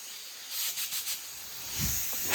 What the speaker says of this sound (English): So we're going to deflate all 4 tires at the same time.